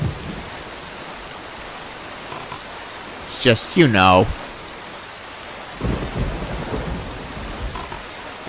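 Rain and a rumbling thunderstorm in The Wind Waker, a steady wash of rainfall throughout with louder surges of storm noise, while a person talks briefly over it.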